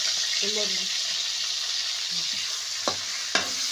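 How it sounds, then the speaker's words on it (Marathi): Bitter gourd pieces fry in hot oil while being stirred in a pan, giving a steady close sizzle with a couple of sharp spoon knocks and a faint voice briefly in the background. "आता तेलामध्ये हलवून घ्यायचं आहे त्यांना."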